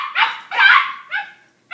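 A puppy barks in short, sharp bursts: two loud yaps close together, then a softer third and a brief fourth at the end, heard close with no talking.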